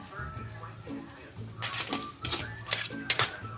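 A pot of seafood stew in coconut milk with shrimp cubes, squash and long beans is stirred, giving scattered metallic scrapes and clinks of a utensil against the pot over a low background hum.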